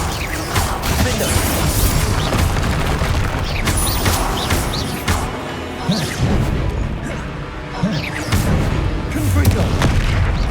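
Confringo blasting spells go off repeatedly in the Hogwarts Legacy video game, a dense, loud stretch of booms, crashes and impacts with rumbling debris that keeps going, and a voice is also heard in the mix.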